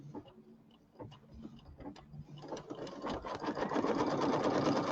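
An embroidery machine stitches a tack-down line on fabric, starting with slow, sparse clicks and then building to a fast, steady mechanical whir of stitching, close and fairly loud.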